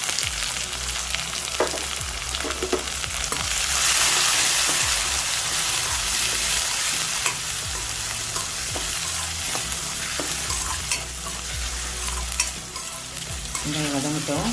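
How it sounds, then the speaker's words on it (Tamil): Chopped onion sautés in a pan for a mulai keerai kootu, producing a continuous close sizzle broken by occasional scraping stirs and soft clinks of a utensil, swelling briefly midway. "வெங்காயம் வதங்கட்டும்."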